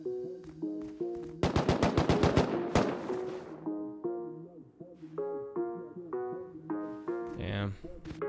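MP5 gunfire in the survival video game Rust, a rapid burst of automatic shots lasting about a second and a half amid game music, followed by a few scattered reports.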